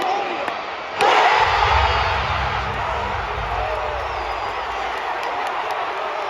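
A basketball arena crowd erupts in a sudden loud roar after Jamal Murray's game-winning shot against the Lakers in a Nuggets game, the cheering swelling at once and holding as a sustained, distant wash of noise.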